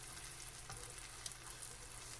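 Spinach omelette egg frying in a pan, a steady soft sizzle and crackle that runs continuously with a few faint pops, low and close, no talk over it.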